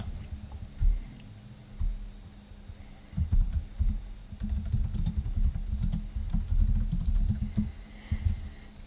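Keyboard typing and mouse clicks while editing a thumbnail in video software, with sharp scattered clicks and tapping runs over a low rumbling background, close and moderately quiet.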